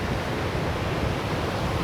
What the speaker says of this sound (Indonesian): wah ombaknya sangat gede sekali